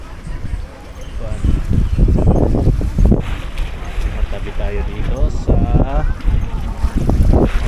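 Steady wind buffeting the microphone outdoors by the water at Cabuyao fish port in Laguna, Philippines, with people talking over the constant rushing roar.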